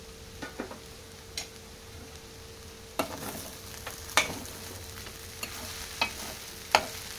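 Onions frying in a pan, a soft steady sizzle broken by occasional spoon scrapes and clinks against the pan, close and otherwise quiet.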